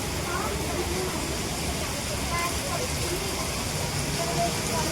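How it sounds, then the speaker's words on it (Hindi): Heavy rain that has fallen all night pours steadily outdoors, a dense, constant hiss and patter that stays loud and even throughout. "बाहर पूरी रात बारिश हुई है और अब भी नहीं रुक रही है"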